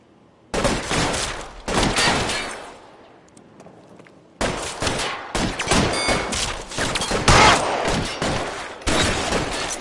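Bursts of gunfire from an L.A. Noire shootout, loud and close, coming in dense volleys with a pause near the middle before the firing resumes and continues steadily to the end.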